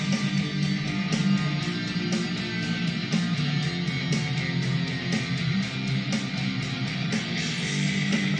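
A freshly recorded verse and chorus lead melody for a song plays at a moderate level, sustained tones carried over a steady rhythmic pulse, with no talking.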